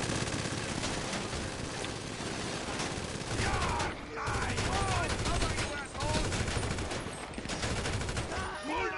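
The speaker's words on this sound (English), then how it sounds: "I'll shoot the guy on the roof." Rapid bursts of gunfire and automatic weapon fire in a GTA Online shootout, dense overlapping shots with brief pauses, moderately loud throughout with game sound effects mixed in.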